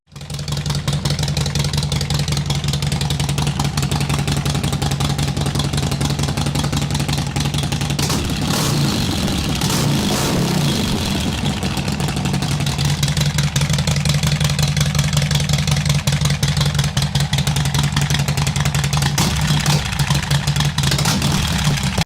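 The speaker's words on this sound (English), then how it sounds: "Thunder Torque inserts will deepen the exhaust tone and increase power." A Harley-Davidson motorcycle with Thunder Torque exhaust inserts idles with a deep, steady rumbling exhaust throughout, briefly rising once in a short rev before settling back.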